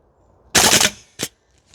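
CYMA CGS MWS gas blowback airsoft rifle firing full auto on a range: one loud rapid burst of about a third of a second, followed by a shorter burst and a faint final pop.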